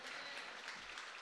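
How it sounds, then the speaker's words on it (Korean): A church congregation at a revival prayer-healing service claps in a brief, faint but steady burst of many hands together. "박수 한번 쳐봐요"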